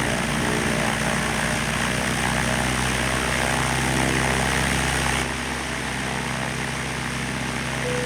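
A propeller airplane engine drones loudly and steadily during takeoff in Microsoft Flight Simulator, a continuous buzzing roar that drops slightly in level partway through.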